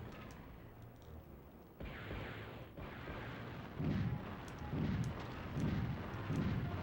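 Repeated deep tank explosion thuds in a PlayStation 1 game, about four evenly spaced booms over a low rumbling background, synthetic and game-like.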